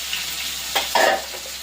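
Leafy greens drop into a hot pan of fried potato and eggplant, bringing a soft sizzle and a couple of brief stirring scrapes over steady frying noise, close up.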